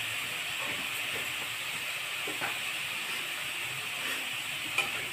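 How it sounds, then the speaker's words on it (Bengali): Banana stem frying in a pan with salt and turmeric, a steady close hiss and sizzle running throughout with faint stirring scrapes and no talk. "লবণ হলুদ দিয়ে এটা আমি ভাজা ভাজা করে নিয়ে"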